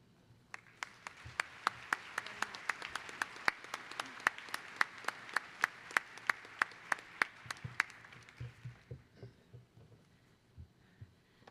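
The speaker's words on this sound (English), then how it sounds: "Another round of applause for Regent Chris Peterson." Steady applause fills a commencement ceremony hall, with many hands clapping in a dense, even rhythm before fading to a few scattered claps at the end.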